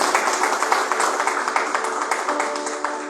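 A church congregation claps for Jesus in quick, rhythmic unison, a dense, steady beat of many hands that carries on evenly throughout.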